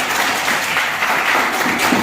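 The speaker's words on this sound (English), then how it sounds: "So clap for each other for the good performance." A class of children claps together after a tied group contest, a brief burst of steady, dense applause at moderate level, no voices.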